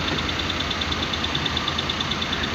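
Suzuki F5A six-valve car engine idling steadily at close range, a continuous low rumble with a faint high-pitched whine pulsing at a regular rate throughout, no voices.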